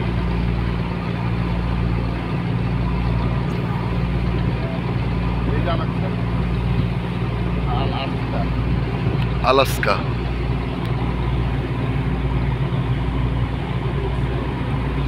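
A launch engine on a river boat in the Sundarbans runs steadily with a low droning rumble throughout, close and constant, while a voice speaks briefly over it.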